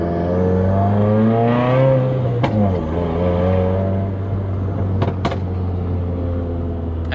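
A Subaru WRX with a burble/crackle tune idles and revs beside a building, its exhaust letting off loud sharp backfire pops that echo off the wall, with a few cracks near the middle and a tight burst toward the end over a steady engine drone.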